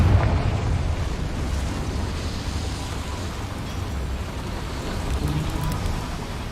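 A Confringo fire spell in Hogwarts Legacy goes off inside a cramped mine, giving a sustained, loud rumbling blast that hangs at a steady level for several seconds with no voices over it.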